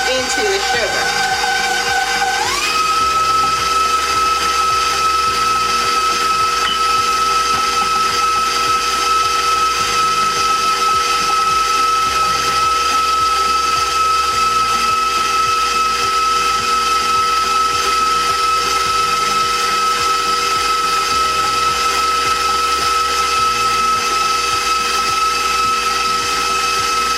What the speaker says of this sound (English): you want to keep blending this until the strawberries start to disappear and melt into the sugar